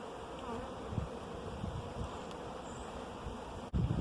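Honeybees buzz steadily at a hive in a community garden, a dense, continuous hum of many insects close by, with a brief dip and bump near the end.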